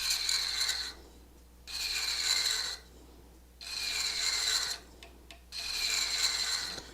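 Threads are cut into a wooden lid with a threading tool: four rasping, scraping passes of about a second each, separated by quieter pauses, close and clear with no talking.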